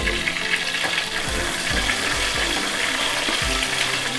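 A dry red chili, two seeded green chilies and curry leaves fry in oil with ginger and garlic, giving a loud, steady crackling sizzle broken by soft low knocks, with no talking.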